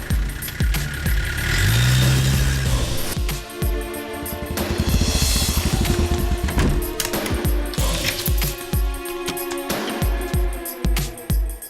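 A car starts and pulls away in an action film scene, engine revving and rumbling up loud then settling, mixed with dramatic score and sharp impact hits.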